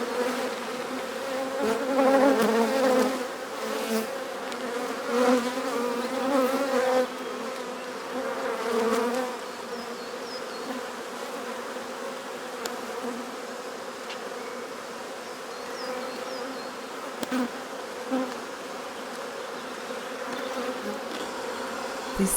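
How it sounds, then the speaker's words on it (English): Honeybees in a busy hive during a spring inspection of the brood box, a dense, loud, continuous buzzing swarm close by, swelling and easing without pause. "This hive is so loud and busy and fantastic."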